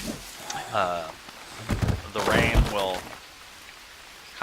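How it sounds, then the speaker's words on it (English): In the jungle survival game Green Hell, rain falls with a steady patter in the background while a voice talks over it. "The rain will constantly put out your fires."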